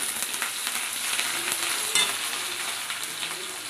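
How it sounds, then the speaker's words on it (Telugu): Mustard seeds, cumin, garlic paste, sliced onions and green chillies fry in hot oil with a steady, close hissing sizzle and light stirring, with no talk over it. "ఆవాలు, జీలకర్ర, వెల్లుల్లి పేస్ట్, సన్న తరుక్కున్న ఉల్లిపాయలు, పచ్చిమిర్చి,"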